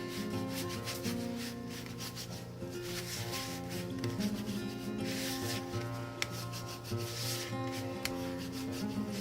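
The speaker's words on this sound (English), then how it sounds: "Okay, and burnish that down again." Paper being burnished down by hand on a Graphic 45 Garden Goddess scrapbook mini album, soft repeated rubbing strokes close by, quiet and alone.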